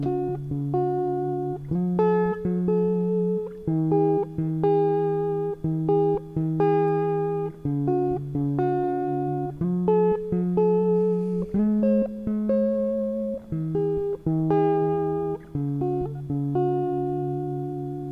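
Electric guitar recorded straight into a Maschine Mk3 without a DI box, the same plucked riff sounding duller and more muffled, steady and loud with no talking.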